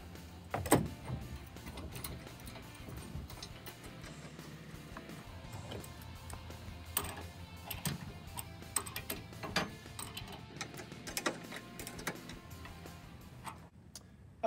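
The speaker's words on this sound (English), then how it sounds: "And doing up the bolt." A bolt is tightened on a Rock Racks vertical bike rack fitted in a hitch receiver, giving a steady run of close ratcheting clicks and metallic ticks with occasional louder knocks, and no voices.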